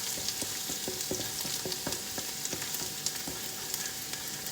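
Leftover cooked rice frying in a wok as fried rice, a steady loud sizzle broken by repeated rhythmic scrapes and tosses of the spatula, with no talking.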